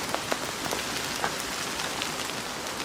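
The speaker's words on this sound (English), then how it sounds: "You can't know if it's decided to rain or if it's the wind blowing the water off the trees" Steady rainfall or wind-shaken water dripping from trees in a bluebell wood, a dense even patter of drops with scattered sharper taps throughout, no talking.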